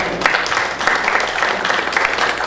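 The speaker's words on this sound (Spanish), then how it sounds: "Demos un fuerte aplauso" Loud, steady applause from a conference audience fills the whole stretch, a dense unbroken wash of many hands clapping without letup.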